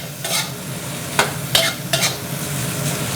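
Mushrooms stir-fry in a hot pan with light soy sauce and a little sugar, a constant close sizzle broken by several sharp scraping strokes of a spatula against the pan.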